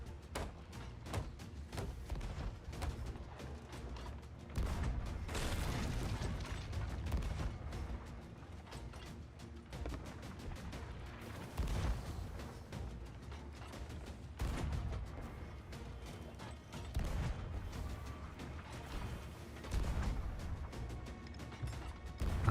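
Cannons in a pirate ship video game fire over and over, with booming, crackling bursts and mechanical clanks repeating steadily and loudly through a busy, dense battle soundscape.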